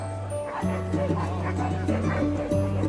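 Dog yipping and whimpering with short barks in an indoor setting, several close bursts over a steady background hum and music-like tones.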